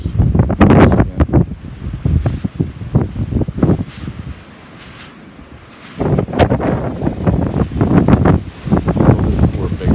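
Strong easterly wind during an April ice storm in a Zone 5a neighborhood blusters loudly into the microphone in heavy gusts, easing briefly midway before roaring back.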